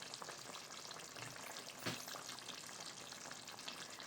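Vegetable curry made with palva beans fries loudly in a pan as beans are added, a dense close sizzle with a brief stirring swish partway through, and no voices.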